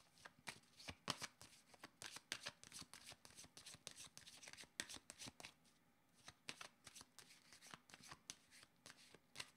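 Rapid rhythmic card shuffling for a tarot-style card reading, quiet and close, with repeated riffle and tap sounds running steadily throughout.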